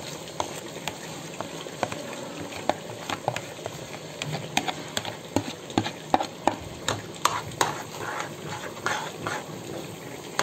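Tomato, cashew and onion masala paste with spices is stirred and roasted in a pan, the spoon scraping in a steady run of sharp clicks over a low, continuous sizzle.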